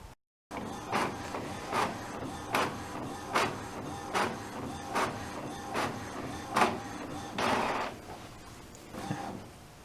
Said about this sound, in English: once I hit print on the printer, or on the computer, my tract will print out here